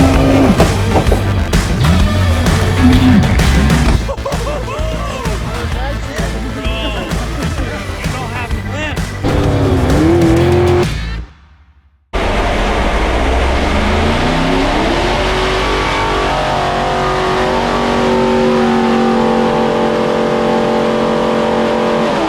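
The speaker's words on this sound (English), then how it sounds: "that first dyno pull" Methanol-fed 500 cubic inch billet small-block Chevy with Engeler injection roaring through a dyno pull, loud and close, revving up and down before a brief cut, then a second sustained run.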